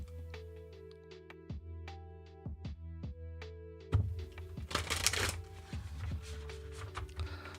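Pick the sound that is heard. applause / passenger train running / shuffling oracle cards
shuffling oracle cards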